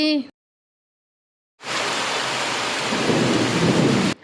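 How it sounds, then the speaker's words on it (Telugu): After a brief sound and a moment of silence, heavy rain roars in, a dense steady downpour close by that swells slightly toward the end. "ఇంకెలాగో వర్షం అయితే స్టార్ట్ అయింది కదా"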